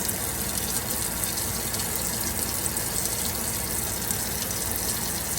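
Hot water runs steadily from a tap into a kitchen sink, a loud, unbroken gushing rush with no pauses.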